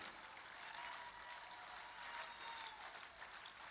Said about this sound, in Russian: В Москве так не аплодируют.